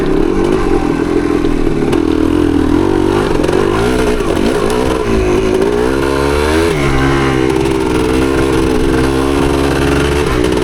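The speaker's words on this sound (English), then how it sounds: "we got that little bit of sputtering, like quarter throttle. When you get above it and you get up in the higher revs, it cleans up." A 1975 Yamaha DT250 two-stroke motorcycle idles and revs loudly up close, its engine sputtering and stumbling at quarter throttle, then rising and falling in pitch as the revs climb, with no talking.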